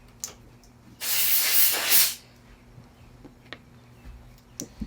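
A single sustained burst of aerosol spray into a Honda GCV series lawn mower engine carburetor, loud and close, hissing for about a second, with faint ticks and clicks around it.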